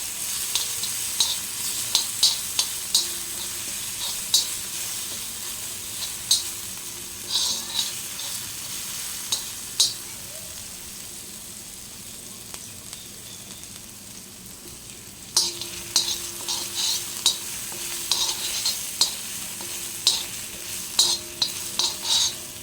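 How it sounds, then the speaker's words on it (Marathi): Coarse paste of green chili, garlic and cumin sautéed in a little oil for a cluster bean thecha, a steady sizzle broken by frequent sharp scrapes and taps of a spoon stirring, with a short quieter pause midway. "आता आपण जी भरड केलेली आहे ना हिरवी मिरची लसूण जिरं हे बघा ती पण यामध्ये आपण परतून घेणार आहोत"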